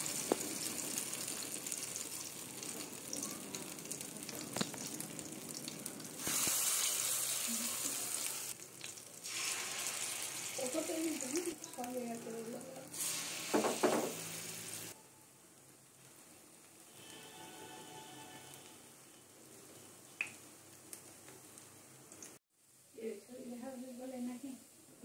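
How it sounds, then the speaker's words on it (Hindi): Radish fritter batter frying in hot oil in a kadai, a steady sizzle and bubbling with a few louder bursts as portions drop in, continuing under occasional talk. "अब कढ़ाई में तेल गरम करके ये मूली को जो मिक्स किया हुआ है इसको थोड़ा थोड़ा करके लेंगे"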